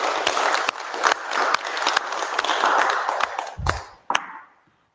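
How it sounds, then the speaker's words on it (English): Congregation at a Thursday church service with mediumship applauds in dense, sustained clapping from a modest crowd, ending in a few final claps and a sharp tap before silence. "Another round of applause, please"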